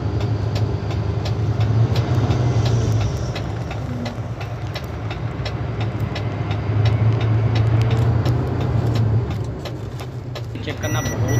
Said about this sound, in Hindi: जैसे कि आपने वीडियो में देखा कि गाड़ी का जो आरपीएम है पूरा ऊपर जा